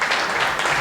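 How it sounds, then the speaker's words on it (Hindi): A brief burst of steady audience applause at a poetry recital, dense and even for under a second. "एक बार जोरदार तालियां बजा दीजिएगा।"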